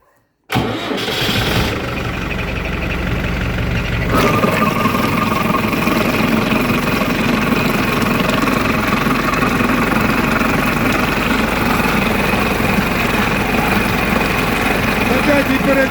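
A YuMZ-6 tractor engine idles with the clutch pressed during a rear-axle oil test. It catches abruptly, then settles into a loud, close, steady mechanical drone with constant rumble and rattle for the remainder.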